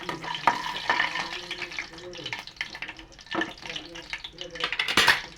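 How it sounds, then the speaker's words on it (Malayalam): Mustard seeds pop and crackle in hot oil alongside ground fennel and a small piece of cinnamon for a chicken curry, with irregular sharp pops, spoon scraping and sizzling throughout, and a voice talking intermittently over it. "അപ്പോൾ കടുകും പൊട്ടുന്നുണ്ട്"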